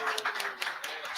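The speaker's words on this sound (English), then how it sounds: "let us give a round of applause to this wonderful commitment" Short burst of clapping from a festival gathering for Gaura Purnima, a handful of distinct claps at moderate loudness, fairly close, with voices mixed in.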